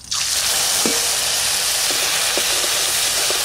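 Whole cumin seeds and ground cumin paste hit hot oil in a village kitchen, bursting into a loud, dense, close sizzle that holds steady, with a few faint clicks and pops scattered through it.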